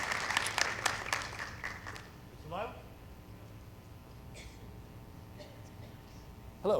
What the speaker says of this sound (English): so please a round of applause for their family as well